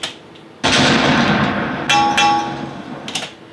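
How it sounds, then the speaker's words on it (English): A loud metallic impact lands suddenly, followed by a ringing, clanging resonance and a second sharp hit, with a few smaller clinks trailing off at the end. "We've got the impact and the sound of a metallic thud."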